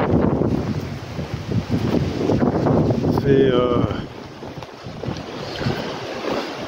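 Strong wind blows outdoors on an autumn day, buffeting the microphone with a constant rumbling roar while people talk nearby.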